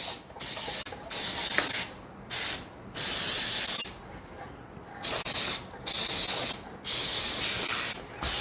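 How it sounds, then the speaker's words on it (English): Repeated short hissing blasts of cooking spray onto a muffin pan, about eight bursts separated by brief pauses, close and fairly loud. "I'm going to take my muffin pan and I'm going to spray it really,"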